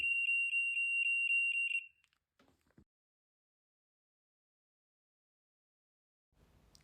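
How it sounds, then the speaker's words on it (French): A high, steady electronic alarm tone pulses loudly for about two seconds, then cuts off, followed by a few soft clicks and near silence. "pour arrêter du coup l'alarme qui a été déclenchée manuellement"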